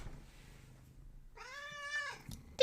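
A house cat gives one long, loud, drawn-out meow after a quiet stretch of low rumbling, ending with a sharp close knock.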